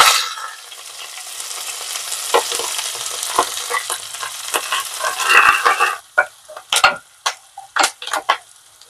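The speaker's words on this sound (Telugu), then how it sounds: "ఆవాలు జీలకర్ర చిట్పట్లాడుతున్నాయండి" Mustard and cumin seeds crackle and splutter in hot oil with dense popping for several seconds, then sharper scattered pops and stirring clicks as the sizzle thins out.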